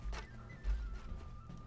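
An arbalest crossbow bolt strikes a horse in Mount and Blade: Warband, giving a dull thump and a short horse whinny over steady battlefield rumble and hoof clatter, fairly close and moderately loud.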